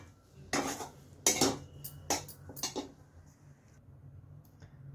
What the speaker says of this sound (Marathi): दोन मिनटं हलवून घेऊया